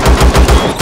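Drone gunfire in the video game Empyrion rattles out as a loud, rapid burst of evenly spaced shots, close and alone with no talk.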